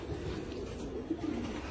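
Pigeons cooing in a loft, a soft, low, steady murmur of several birds with a couple of slightly louder coos near the end.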